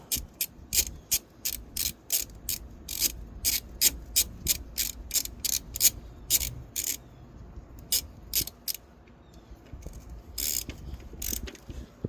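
Ratchet wrench clicking in bursts of rapid pawl ticks while tightening the belt tensioner bolt on a 2007 Honda Civic, close and crisp, with short pauses between strokes and no talking.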